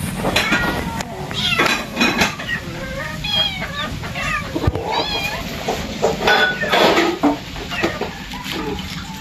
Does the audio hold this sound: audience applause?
no